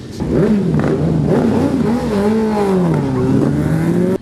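Motorcycles rev loudly in a convoy of about fifty bikers riding through city streets with a police escort at the close of the riding season, engines rising and falling continuously and close by throughout.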